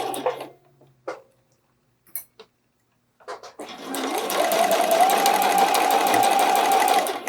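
Sparse clicks and handling noises give way to a sustained run of a sewing machine stitching a bralette seam, steady and close for the last few seconds.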